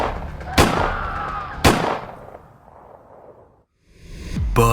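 Within a dramatized story, two loud, sharp gunshots ring out about a second apart, each fading into a lingering echo, with another blast-like burst at the very end.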